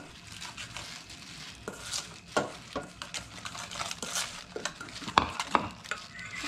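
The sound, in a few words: stirring garlic and green onions in a pan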